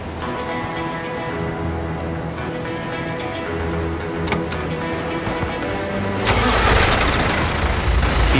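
A tractor engine runs with a steady low, throbbing drone outdoors near a forest track, then surges louder and rougher as it catches and revs up in the final seconds.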